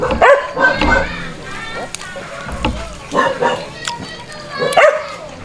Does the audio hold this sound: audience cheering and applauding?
no